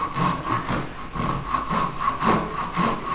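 A Ryoba compact Japanese pull saw makes a quick, rough cut through wood for a tenon, its rasping strokes repeating in an even rhythm, about six close, loud passes with no talking.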